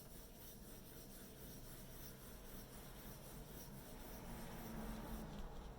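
Steady dry scratching and rasping of graphite across paper, continuous and close, with a slight rise in intensity toward the end.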